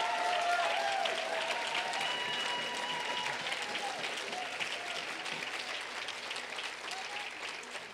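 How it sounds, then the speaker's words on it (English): Audience in an auditorium applauding during an executive briefing, sustained steady clapping that fills the room and slowly tapers, with a few voices faintly mixed in. "I'm trying to figure out if the applause was relatively equal."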